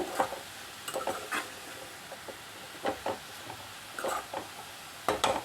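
Cabbage thoran being stirred in a pan, with intermittent scraping strokes of a spoon against the pan and a faint sizzle underneath, irregular bursts of stirring separated by quiet moments.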